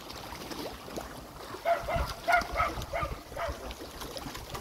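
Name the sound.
dog barking angrily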